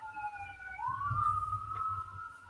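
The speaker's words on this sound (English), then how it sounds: "did you guys hear the ambulance?" An ambulance siren wails as it drives past outside, a rising, sweeping tone heard at a distance with low traffic rumble beneath it.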